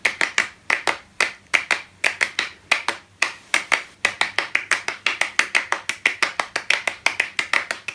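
Interlocking hand-clapping patterns phasing against each other, a steady stream of sharp, close claps in a fast, shifting rhythm with no voices.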